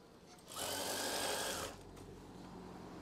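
A sewing machine stitches an eyelet swag curtain in a single steady run of about a second, close and loud, over a low room hum.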